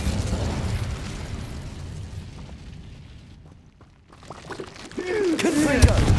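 A fire spell cast in the video game Hogwarts Legacy bursts out loudly with a crackling, whooshing blast that swells after a brief lull, amid other in-game combat noise.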